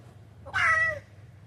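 A single short meow, imitated by a voice during a game of animal sounds, close and clear against a quiet room.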